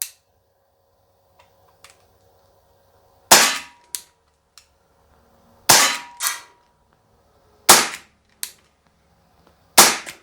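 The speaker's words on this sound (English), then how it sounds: "We're only going to shoot 6 rounds because my the maximum rounds in the paintball gun is 6" A paintball pistol fires six sharp, loud shots outdoors, arriving in irregular pairs with short pauses between them, each a crisp crack that decays quickly against quiet background.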